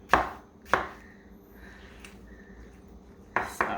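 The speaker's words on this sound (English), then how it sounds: "I'm already almost through slicing my first half of the watermelon" A knife cuts through a watermelon on a board in a few sharp, distinct chops spaced apart, with a quieter scrape in between and a quick pair of strokes at the end.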